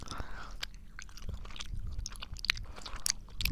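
Close, quiet chewing and crunching of Flintstones chewable vitamins, with soft irregular bites and mouth sounds recorded near the microphone.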